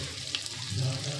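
Chicken frying in masala gives a soft, steady sizzle with faint stirring scrapes, close and fairly quiet, with no talk over it.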